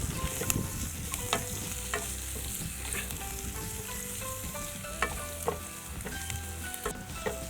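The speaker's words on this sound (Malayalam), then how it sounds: "അതും ഇട്ടിട്ട് വഴറ്റാം." Chopped onion sautéing with ginger and garlic in a hot pan for a green peas curry, a steady sizzle and crackle of frying broken by scraping stirs of a spoon, close and continuous without speech.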